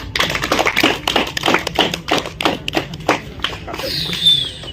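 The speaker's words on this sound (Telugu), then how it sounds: "క్లాప్స్ కొడుతుందమ్మా" Hands clap at an English quiz contest between two student teams, a quick run of about a dozen close, crisp claps in an uneven rhythm that trails off at the end.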